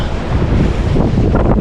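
Ocean waves and current churn around a small boat at sea, heard as a loud rushing wash heavily buffeted by wind on the microphone.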